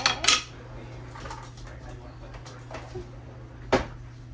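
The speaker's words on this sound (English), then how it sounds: "We're gonna give this a stir." A spoon stirs a blended oat milk mixture in a kitchen vessel, with a few bright clinks against the container at the start and near the end and a quiet background between them.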